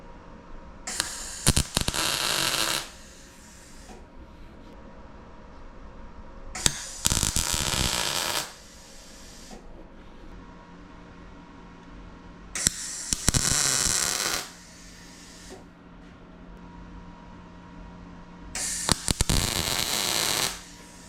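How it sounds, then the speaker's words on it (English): Tack welding a motorcycle frame mock-up for a Sportster, four separate bursts of harsh crackling, buzzing arc noise, each about two seconds long, close up, with quiet hum between them. "For now, we're just going to go ahead and tack everything on."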